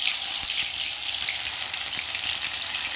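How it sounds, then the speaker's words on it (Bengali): Pakoras fry in hot oil with a steady, dense sizzle that holds close and loud throughout, broken only by faint small clicks from the pan, and no voices. "আমি একে একে সব পকোড়াগুলো এইভাবে তেলে ছেড়ে দেবো।"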